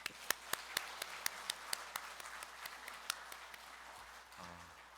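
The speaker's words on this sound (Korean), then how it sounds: "서로 박수를 보내시기 바랍니다" Sparse, scattered hand claps at a Catholic parish Holy Spirit seminar, individual sharp claps ringing out at irregular intervals over a quiet, reverberant room, fading toward the end.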